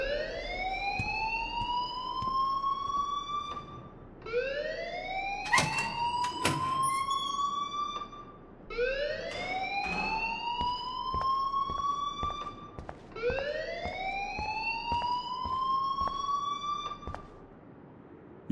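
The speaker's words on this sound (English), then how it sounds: "please turn off that alarm since that's your" A school alarm in the video game Life Is Strange wails in four long rising siren sweeps, each about four seconds with short gaps between, loud and close, with a few clicks near the start of the second sweep.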